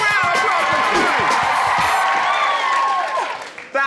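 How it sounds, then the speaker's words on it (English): An audience claps and cheers for a performer on a skills show, a loud burst of applause with whoops and excited voices that tapers off near the end. "Big round of applause for Joe."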